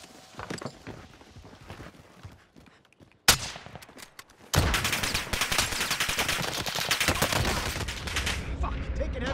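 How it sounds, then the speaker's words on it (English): Call of Duty: Warzone gunfire: a single sharp shot, then a sustained burst of rapid automatic fire that rattles on loudly to the end, preceded by quieter scattered game sounds. "Taking heavy fire."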